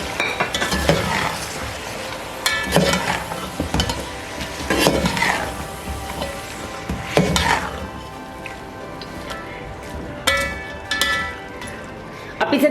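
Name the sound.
capsicum cubes added to and stirred into frying mutton masala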